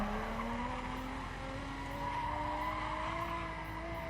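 A car drifting in The Crew racing game without the handbrake: a long, continuous tyre squeal over a rising engine whine, sustained and steady throughout, with no talking.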